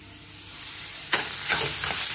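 Onion, garlic, tomato and chilli frying in a pan for a paneer and capsicum masala gravy, starting as a quiet hiss that turns into a louder, steady sizzle with a few stirring scrapes.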